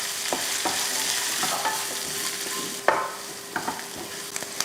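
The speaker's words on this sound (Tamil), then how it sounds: "இப்போ இதை வதக்கிடலாம்" Onion, garlic, ginger and green chillies sauté in a pan for idli kulambu, a steady close sizzle broken by a few sharp scraping stirs of a spoon against the metal.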